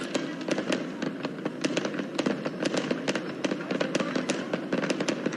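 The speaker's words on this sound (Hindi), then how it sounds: "ये भव्य आतिशबाजी" A grand fireworks display opening the Ram Navami festival at Orchha: rapid, irregular crackling bursts and pops repeating throughout, loud and dense.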